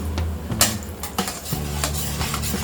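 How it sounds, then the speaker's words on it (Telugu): Half a cup of cashews being fried in a pan for murmura chivda, a soft sizzle beneath repeated metallic scrapes and clinks of a spoon stirring against the pan, close by. "కాజులు ఫ్రై చేద్దాం."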